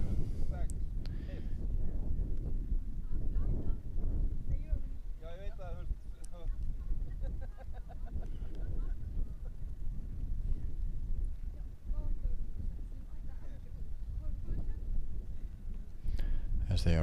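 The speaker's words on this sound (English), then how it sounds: "then it died down, the wind picked up" Wind blowing steadily outdoors at the Icelandic outdoor compound and barebow archery championships, a continuous low rumble buffeting the microphone throughout, with people talking faintly underneath.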